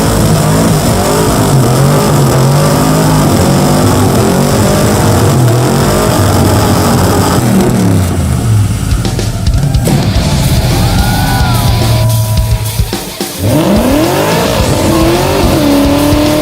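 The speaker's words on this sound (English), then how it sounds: "and Finnegan kicked it off in his Mopar Hemi-powered Blasphemy 55 Chevy Gasser." Mopar Hemi-powered 1955 Chevy Gasser doing a burnout at a tire burnout competition, engine roaring loud and sustained with revving, tires squealing against the steel, dipping briefly near the end before surging again.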